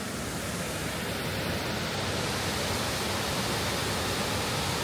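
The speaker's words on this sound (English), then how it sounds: "Another incredible waterfall right next to the gravel trail." A waterfall pours beside a gravel trail near a dam, a steady broadband rushing roar that stays constant and fairly close throughout.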